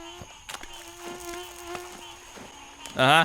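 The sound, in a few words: mosquito buzzing in video game The Last Plague: Blight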